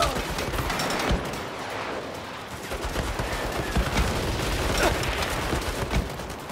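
Dense turret gunfire in the Saints Row video game, a loud continuous barrage of rapid shots and impacts with booming hits mixed into the clamor.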